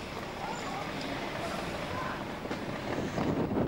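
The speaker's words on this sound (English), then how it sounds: "It's a little bit breezy up here." Steady wind roars and buffets across a hilltop near Addington and Woodford, Northamptonshire, a broad rushing noise that swells louder toward the end, with faint talk in the background.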